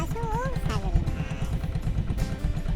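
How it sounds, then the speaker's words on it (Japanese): A Yamaha Majesty 125 scooter engine idles close by with a rapid, even low pulsing throughout, while someone talks over it. "左に回していき、アイドリング回転数が高くなる場所を探ります"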